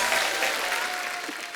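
Studio audience applause at a comedy cast show, a brisk, dense burst of many hands clapping close and bright, with no talk over it.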